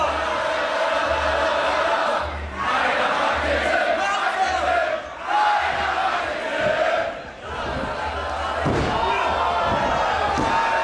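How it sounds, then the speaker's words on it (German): Hard strikes and heavy slams land during a light heavyweight wrestling match, thudding among crowd noise and cheering while a commentator talks throughout, with a few sharper impacts near the end. "Harte Treffer landet er gegen Crowchester."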